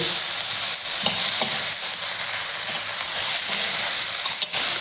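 Chopped onion and turmeric hit hot oil in a pan, giving a loud, steady close-up frying sizzle with a few brief stirring knocks and no talking.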